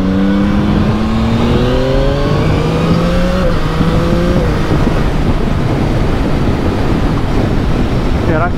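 A 2022 Yamaha MT-09 motorcycle accelerates on a dual carriageway, its engine pitch climbing and stepping down through quick-shifter gear changes before fading into heavy wind roar at speed.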